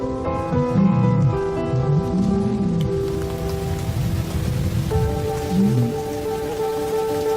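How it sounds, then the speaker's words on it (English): Heavy thunderstorm rain pours steadily on the ground in the wild, a dense, loud, continuous hiss with musical tones playing over it throughout. "As the storm breaks"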